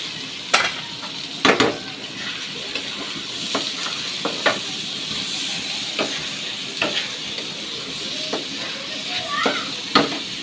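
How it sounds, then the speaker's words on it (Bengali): Polao rice fries in a pan with spices, producing a steady soft sizzle and hiss, broken by occasional scraping stirs and light clinks of a utensil against the pan, with someone speaking briefly. "এই যে চালগুলো ভাজা হয়ে গেছে।"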